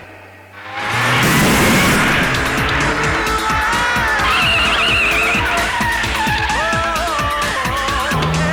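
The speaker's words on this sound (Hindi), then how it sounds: "राम सिंह, गाड़ी लाओ" A car sweeps in with its tyres skidding loudly, a long screech rising after a brief lull and holding for several seconds, close and dominant, with engine noise beneath and a faint whoosh.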